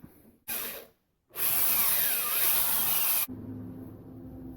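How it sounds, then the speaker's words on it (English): A power drill with a 2mm bit bores small holes for screws in a model ship hull, with a short burst and then a steady, loud high whine lasting about two seconds before it cuts off close by. "I'll go through now with a 2mm drill bit."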